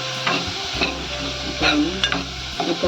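Toor dal being sautéed and stirred in a hot pan for amti, with steady sizzling and a series of scraping stirs and utensil knocks against the pan, close and fairly loud, no voices.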